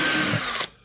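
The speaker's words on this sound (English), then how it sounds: "just drill a little pilot hole" A power drill whirs briefly at high speed while boring a small pilot hole, roughly 1.5 mm, for screws in a fairground high striker build, then cuts off abruptly.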